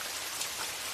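Steady rain falling on a forest, a dense close hiss of drops with no voices.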